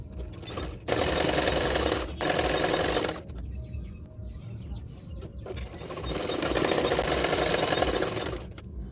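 A sewing machine stitches along the edge of a double katori blouse in short, loud bursts of rapid whirring, separated by brief pauses, with a longer run near the end and no talking.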